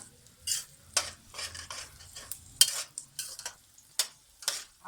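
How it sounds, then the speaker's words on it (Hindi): Carrots and peas roasting in a pot for white pulao, with repeated scraping stirs and a steady low sizzle, close and fairly loud, in uneven bursts and no voices. "5 से 10 मिनट तक हम इसको अच्छी तरह से भूनेंगे"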